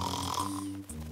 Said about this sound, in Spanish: Pero si ronca igual que un viejo abejorro